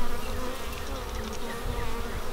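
Honey bees buzz inside a beehive while a super is being added, a dense, steady close-up drone that holds at even loudness throughout.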